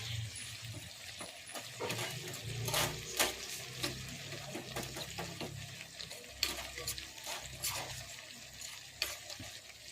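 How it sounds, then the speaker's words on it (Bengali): A spoon stirs about two spoonfuls of cornflour into a little water in a bowl, giving close, repeated scraping and clinking strokes in an irregular rhythm with faint wet swishing. "আমি কর্নফ্লাওয়ারটা গুলে নেব।"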